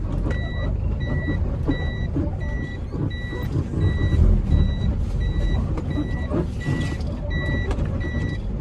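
A truck reverses with a steady series of evenly spaced electronic reversing beeps sounding over a continuous engine rumble and background traffic noise.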